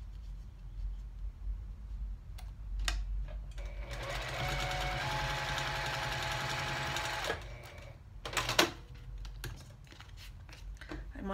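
Sewing machine stitching the last dart on a fabric bowl cozy, a steady fast whir from start to finish, close and clear, with small handling clicks before and after.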